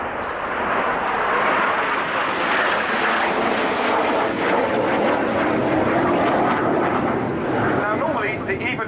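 Red Arrows RAF jets flying in formation at an air display roar continuously with a loud, rumbling engine wash that stays near and steady throughout, while a commentator talks over it.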